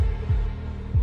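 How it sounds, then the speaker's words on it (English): Heartbeat sound effect from a Daredevil episode, two deep low thumps about two-thirds of a second apart over a dull rumbling hum, with no talk. "Here's the heartbeat."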